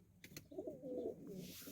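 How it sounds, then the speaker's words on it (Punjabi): A female pigeon of a yellow-eyed breed gives a soft, fine-toned cooing call, close by, with a couple of faint clicks before it. "ਇਹ ਵੀ ਕਬੂਤਰੀ ਹੈ, ਇਹਦੀ ਧੁੰਨ ਥੋੜੀ ਬਰੀਕ ਹੀ ਆ"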